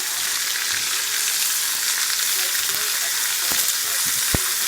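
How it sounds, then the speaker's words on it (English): Onions sizzle steadily on a half-grilled, half-flat cooking surface, a dense hiss throughout with a few soft clicks and taps of a utensil near the end. "I'm going to do the onions right now in front of you guys because I'm just going to grill them."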